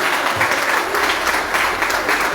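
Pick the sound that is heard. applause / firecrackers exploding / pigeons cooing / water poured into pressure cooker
applause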